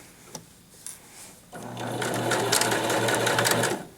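A few light clicks come first, then a sewing machine starts up and runs steadily for the rest of the clip, back stitching fabric for a stuffed lamb toy.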